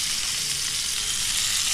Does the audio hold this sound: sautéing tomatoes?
yes